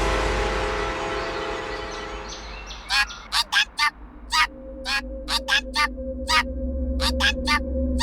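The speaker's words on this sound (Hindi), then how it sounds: "ये तोता इतना चिल्ला क्यों रहा है?" A parrot screeches in a run of loud, harsh calls, about a dozen sharp bursts spread over several seconds, close by and standing out above a steady indoor background hum.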